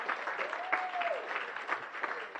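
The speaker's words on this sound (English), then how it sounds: "We should have some applause" Rotary Club members in Las Vegas applaud at a meeting, a soft, somewhat distant wash of clapping that holds steady, with a faint whistle-like tone and a little talk over it.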